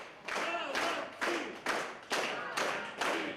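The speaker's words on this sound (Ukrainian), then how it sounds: "На такий щирий прийом діти навіть не сподівалися, їм аплодували стоячи." A standing audience applauding a New Year's fairy-tale performance by children, heard as several loud bursts of clapping and thumping in a fairly regular rhythm, each swelling and fading before the next.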